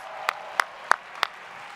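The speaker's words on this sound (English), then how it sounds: "To give these guys a round of applause." At a convention closing ceremony, four crisp, evenly spaced claps ring out close by against a quiet hall.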